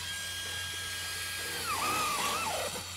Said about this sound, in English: They have been renovating the school beside my apartment for 5 months. I hope they finish soon. It's very noisy.